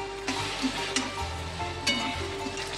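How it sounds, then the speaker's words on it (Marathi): Whole spices, finely chopped onion and bay leaf fry in hot oil for a prawn masala, giving a continuous near sizzle broken by occasional stirring scrapes. "मी खडा मसाला आणि बारीक कांदा चिरलेला तेजपत्ता तेलामध्ये फ्राय करायला टाकलाय"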